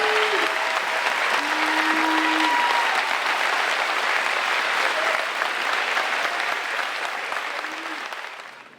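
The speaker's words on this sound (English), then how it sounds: "I would love an ovation for Ms. Callie Weedle, President, and all our commencement speakers" A large audience at a high school graduation ceremony gives a sustained ovation, with dense, steady clapping and a few cheers and whistles that hold strong for several seconds before slowly thinning out.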